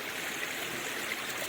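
Rainwater trickles steadily down over a rock on a rainy mountain, a soft continuous hiss of flowing water with no voices present.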